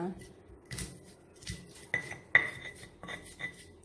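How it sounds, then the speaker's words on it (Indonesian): Spices ground by hand with a stone mortar and pestle (ulekan) for a young papaya and spinach vegetable dish: irregular scraping, knocking strokes with a few clinking hits, close and moderately quiet. "sambil menunggu pepayanya diulek dulu bumbunya ya"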